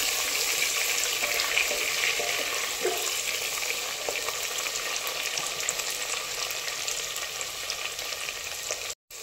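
Green chillies sautéed in a pan of hot oil over a high gas flame for pavta rice, giving a steady, close frying sizzle that runs unbroken for about nine seconds before cutting off abruptly.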